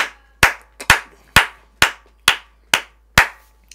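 Church congregation clapping in worship: seven sharp, evenly spaced claps at a slow, steady beat, each ringing briefly in a reverberant room, with no other sound between them.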